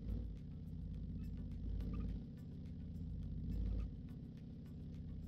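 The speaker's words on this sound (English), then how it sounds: "A lot of torque actually for handbrake burnout." A 1955 pickup in the video game BeamNG doing a handbrake burnout, a rumbling engine that surges louder twice as revs climb and fall, low and throaty, with no voices.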